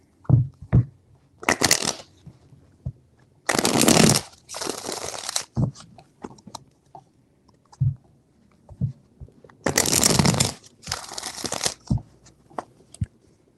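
Tarot cards being shuffled in several rustling, riffling bursts of a second or two each, separated by quieter handling taps and pauses, close and without talk.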